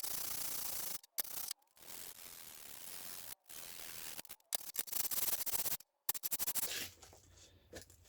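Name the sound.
scrubbing rust off a hand plane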